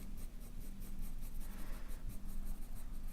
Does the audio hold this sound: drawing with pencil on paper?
yes